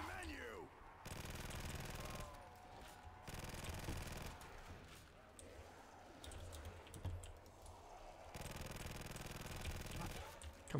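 Automatic Vector submachine gun fire from Call of Duty: World at War custom zombies mode, with repeated bursts of rapid shots of steady loudness, broken by short pauses across the stretch.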